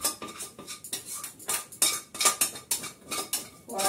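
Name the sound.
heavy wok and pans clattering in the kitchen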